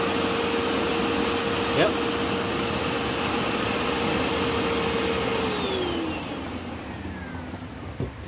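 A Bissell ProHeat 12-amp carpet cleaner runs with steady, loud motor and suction noise and a whining tone, before the pitch drops near the end as it winds down; a brief word is spoken over it.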